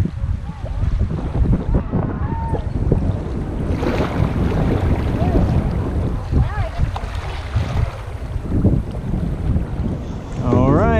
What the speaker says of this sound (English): Here come the rapids.